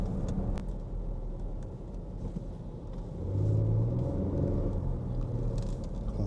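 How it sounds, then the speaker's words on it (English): A bus drives past on the road, a low steady engine rumble that swells louder toward the end as it passes close by, with no talk. "Bus cut me off."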